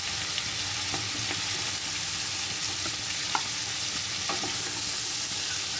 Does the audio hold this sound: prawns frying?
yes